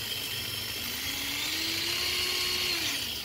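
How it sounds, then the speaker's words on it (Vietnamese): A Japanese 100V electric hand drill runs steadily, a high whirring whine that rises slightly in pitch and then settles, close and continuous with no talk. "Một cái khoan điện 100V ha"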